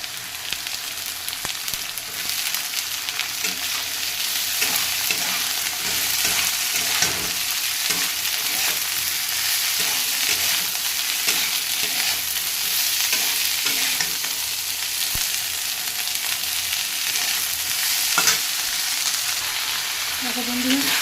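Dheki greens hit hot oil with potato and garlic already browned in the pan, giving a continuous loud sizzle with occasional scraping stirs throughout.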